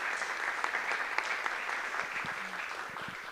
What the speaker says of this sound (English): if we could give a round of applause for the parents for everything that they've done